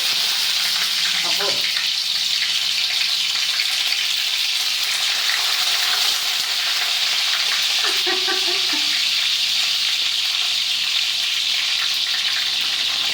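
Two spoonfuls of oil heat and fry in a pan on the stove while coconut chilli powder is being made, giving a steady, loud, even sizzle that fills the whole stretch, with faint brief clinks of utensils over it.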